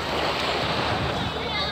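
Ocean waves at Butterfly Beach near the Tuen Mun ferry pier in Hong Kong, a loud continuous wash of surf and splashing water, close and steady, with a faint hint of voice in the mix.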